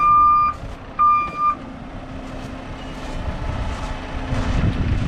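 Reversing alarm beeps twice from a big truck at a mound septic system backfill site, clear and fairly close, followed by a steady rumbling engine and rising background noise.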